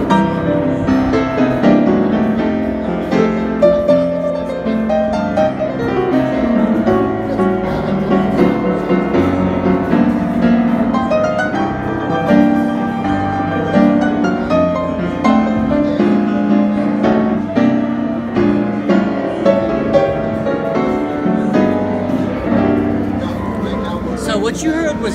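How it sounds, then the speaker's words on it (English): Yamaha U1 TA upright piano played acoustically at a NAMM 2020 demonstration, a steady, full passage of chords and melody lasting about 25 seconds, loud and close with no talking. "What you heard was basically the acoustic piano."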